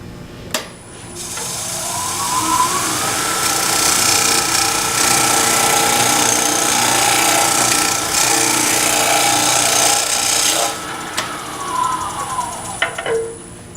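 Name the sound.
bowl scraper recutting wood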